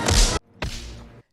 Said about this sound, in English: Why does it sound like a gunshot when he punches someone?